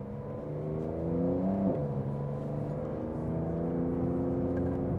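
A 2020 Porsche 911 Carrera 4S engine pulls hard on a race track, a steady close whirring drone climbing in pitch with one brief dip at a shift, heard from inside the car.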